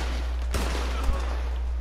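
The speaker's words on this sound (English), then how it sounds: "How dare you shoot my friend?" Gunshots in the Western video game Red Dead Redemption 2, two sharp reports about half a second apart over a steady low hum, fairly quiet and close.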